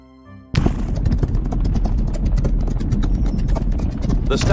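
Galloping hooves thunder in a dense rapid rhythm as a race gets underway in the Rival Stars Horse Racing video game, loud and close, beginning abruptly after a short quiet lead-in, with race commentary talking over it.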